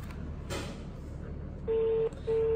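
A telephone ringback tone heard through a phone line: two long, steady tone pulses separated by a short gap, fairly loud against faint background noise.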